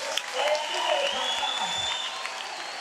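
Church congregation applauding their pastor, a short burst of clapping from a crowd mixed with a few voices.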